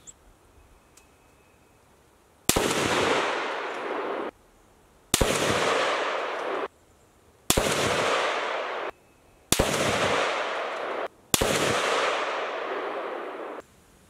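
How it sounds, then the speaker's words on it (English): Five unsuppressed rifle shots at a range, each a loud sharp crack with a ringing tail, spaced a second or two apart with quiet between, no talking. "here's a 5-round group fired with the suppressor removed."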